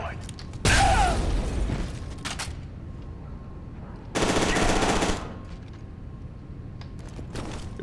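In the F.E.A.R. 2 video game, two loud blasts of automatic gunfire and explosion hit close, one early and one near the middle, with quieter game noise and scattered smaller sounds between them.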